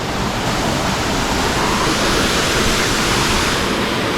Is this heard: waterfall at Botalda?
yes